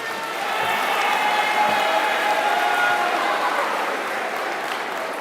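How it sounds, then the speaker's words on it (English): An audience applauds at an SMS 8th grade graduation ceremony, a steady wash of clapping from a crowd filling the hall, fairly even and sustained from start to finish without breaks. "So please give our Vanguards as a whole a round of applause."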